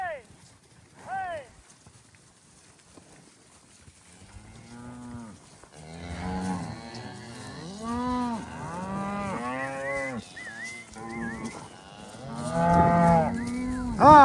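Several cattle moo repeatedly, some close and some farther off, during fall ranch work in Colorado as herding dogs move the herd. Hooves clop in the background and the calls grow louder and more frequent toward the end.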